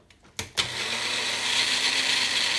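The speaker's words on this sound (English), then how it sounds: "Get the magic bullet set up here." A Magic Bullet blender blends a warm butter mixture for veggie Benedict: a few sharp clicks as it starts, then a steady, loud whirring motor that runs without a break to the end.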